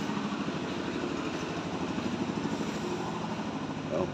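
A motorcycle engine runs steadily nearby, a continuous low throbbing rumble with a fast regular pulse and no change in pace throughout.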